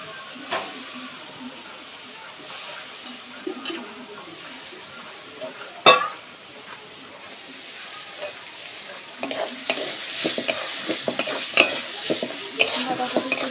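Shredded cabbage fries in a hot pan with a hissing sizzle, punctuated by scraping stirs and clatter that grow busier and louder toward the end.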